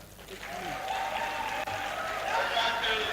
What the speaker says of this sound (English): I thought we should clap for that.